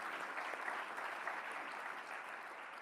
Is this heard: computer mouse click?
no